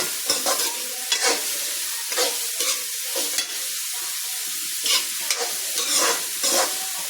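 Small onions sautéing in a hot pan for a beef fry, a steady sizzle with repeated scraping stirs of a spoon against the pan, close and fairly loud, no voices.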